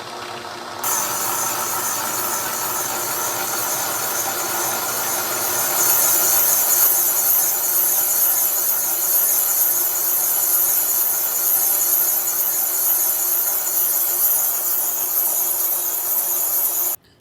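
Milling machine boring out a VW engine case, a steady loud metallic cutting whine with a hissing high edge, starting abruptly, rising slightly midway and cutting off sharply at the end, with no talk.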